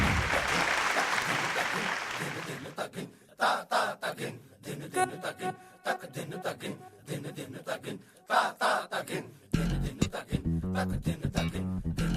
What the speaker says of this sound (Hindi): अंकिता के लिए जोरदार तालियां हो जाएं